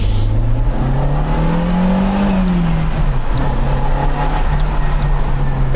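A 1987 Dodge Daytona Shelby accelerating under turbo boost through a corner: a loud, close engine drone rises in pitch, dips briefly, then holds steady under constant road and wind noise.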